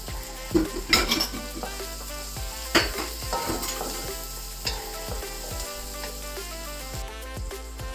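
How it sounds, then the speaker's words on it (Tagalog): Tomatoes sautéing in a hot pan for chicken asado, a steady sizzle and fry with several sharp clinks and scrapes of a utensil against the pan, close and clear with no talking. "Pag binigisa talaga, mabango. Yan na rin kamatis."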